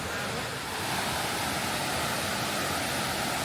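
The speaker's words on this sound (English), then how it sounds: "So here it is, the Muddy Creek Falls." Continuous roaring rush of Muddy Creek Falls in Blackwater Falls State Park, West Virginia, a dense steady noise with no breaks and no voices.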